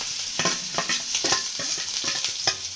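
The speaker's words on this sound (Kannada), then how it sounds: "ಇವಾಗ ನೋಡಿ ಉಳ್ಳಾಗಡ್ಡಿ ಮೆಣಸಿನ್ಕಾಯಿ ಎಲ್ಲ ಫ್ರೈ ಆದಮೇಲೆ ರುಚಿ ತಗೊಂಡು ಉಪ್ಪು ಹಾಕೊಂಡ್ರಿ ಇದ್ರೊಳಗೆ." Chopped onions and green chillies frying in hot oil, a bright continuous sizzle broken by repeated stirring scrapes of a spoon against the pan, close and clear with no talking.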